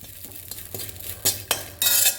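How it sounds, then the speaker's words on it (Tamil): Grated coconut being dry-roasted in a pan for a Kerala podi, a soft rustling base broken by sharp clinks and scrapes of the spatula on the pan, rising to a louder scraping burst near the end, close up and without talk. "ஒரு கப்பு தேங்காய் துருவல் இதை நல்லா செக செவப்பாக வறுத்துக்கோங்க"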